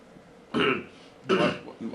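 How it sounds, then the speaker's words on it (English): A person clears their throat twice in short, gravelly rasps, close up and moderately loud. "Trying to clear my throat."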